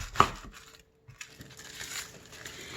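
A knife takes the end off a peeled Vidalia onion, giving one sharp, close cut near the start, then quiet rustling and light board taps, with no talking.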